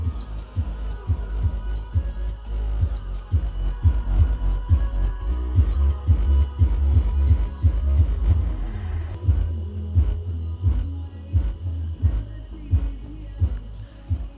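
Deep, booming subwoofer bass pumps in a steady rhythmic beat, loud and close, with a thumping low pulse throughout and a brief shift partway through.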